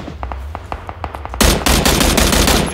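Gunfire in the video game PUBG Battlegrounds, starting as a sparse series of sharp single shots and then breaking into a loud, dense automatic burst that continues to the end.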